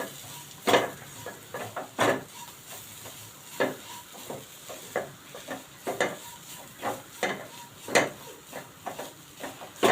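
Ground coriander and cumin sautéed in a pan for a paneer cutlet mixture, with soft sizzling under a series of sharp spoon-on-pan scrapes and taps spaced irregularly, close by.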